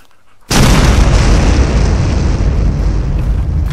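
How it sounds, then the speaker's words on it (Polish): An explosion erupts suddenly after half a second of near silence, a loud, full-bodied blast whose roar rumbles on steadily and only slowly fades over the next three seconds. "Oj, będzie wybuch."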